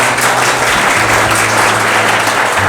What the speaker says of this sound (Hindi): आपके स्मार्टनेस के लिए एक बार जोरदार तालियां होंगी